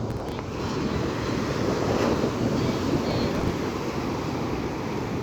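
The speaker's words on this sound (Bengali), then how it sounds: "সমুদ্রের ঢেউ" Red Sea surf on Jeddah beach roars continuously with broad wave wash and buffeting wind against the microphone, loud and unbroken.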